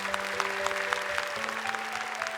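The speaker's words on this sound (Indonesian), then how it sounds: "Boleh tepuk tangan untuk Firda dan juga Kaila." Studio audience clapping for two young Quran memorization contestants on the Hafiz Indonesia 2018 television show, a steady patter of hands beneath sustained tonal music.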